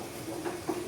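Car engine idling with a hissing, ticking leak from a worn injector washer, a faint steady hiss with small rhythmic pulses close to the engine.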